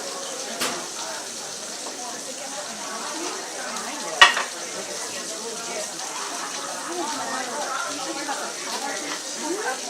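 Pork caramelizes beside a pan of pear sauce coming to a boil, giving a soft, steady sizzle and bubbling with a sharp utensil clack midway, under a quiet kitchen background.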